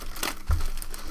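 A plastic bag crinkles at close range as a Corsair K70 mechanical keyboard is pulled out during an unboxing, with short crackly rustles and one heavier thump partway through.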